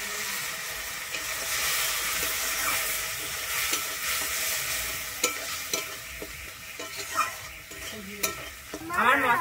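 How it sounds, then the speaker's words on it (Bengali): Water poured from a rinsed bowl into a spice paste fried in oil for a prawn and green banana curry, steady sizzling and hissing with repeated spatula scrapes, growing in bursts toward the end, no talking. "আমি এরপরে একটু বাটি ধুয়ে জল দিয়ে দিচ্ছি।"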